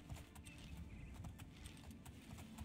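Horse hooves clip-clop in the fantasy video game Oblivion, a quiet, steady rhythmic run of distinct hoof strikes close by, with no talking over it.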